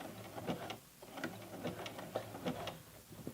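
A sewing machine runs a zigzag stitch on elastic at a 3.5 width setting, giving a quiet, quick, regular ticking and clattering rhythm that stays faint and close.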